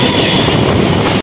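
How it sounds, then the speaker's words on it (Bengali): The Sealdah-Jammu Humsafar Express, train 22317, rushes into Dankuni station at speed, a loud, dense rumble and rattle of wagons passing close for about a second before cutting off. "ঝড়ের গতিতে স্পিড তুলে ট্রেন চলে এলো ডানকুনি স্টেশনে"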